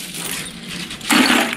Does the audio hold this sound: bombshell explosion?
no